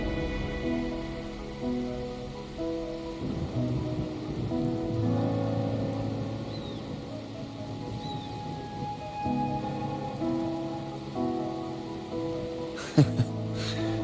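Steady rain falls in a video game cutscene, a constant soft hiss of drops on surfaces under sustained background music, with no talking.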